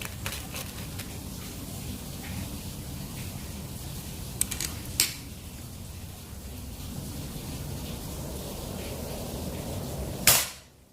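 Steady hissing background broken by one sharp, crisp PCP air rifle shot near the end, from a folding rifle at 3500 psi with a 30 cm seamless barrel during target shooting, with a few faint clicks earlier.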